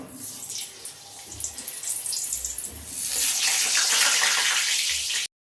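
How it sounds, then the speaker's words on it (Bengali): Potatoes for a meat curry sizzle in hot oil in a home kitchen, a steady broadband hiss that swells louder and fuller about halfway through and holds near and loud with no talking. "আগে মাংসের আলুটা ভেজে নেই, তেল গরম হয়ে গেছে।"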